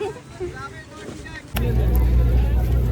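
A boat arrives at Chidiya Tapu beach, its engine suddenly kicking in as a loud, steady low rumble after a moment of quieter beach chatter. People's voices continue faintly underneath.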